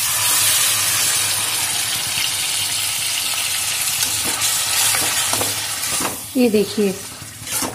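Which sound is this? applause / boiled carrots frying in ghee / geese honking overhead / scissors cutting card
boiled carrots frying in ghee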